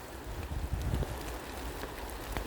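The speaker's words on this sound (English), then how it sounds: "Rain's just got heavy as fuck." Heavy rain falls steadily at night during an outdoor investigation at an old furnace site, a dense close hiss of drops pattering on surfaces with low rumbling wind buffeting the microphone, continuous with no talk.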